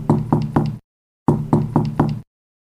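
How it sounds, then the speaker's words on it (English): Two sets of three firm knocks rap on a wooden door close by, each burst crisp and evenly spaced, separated by a brief silence. "there was a knock on the door."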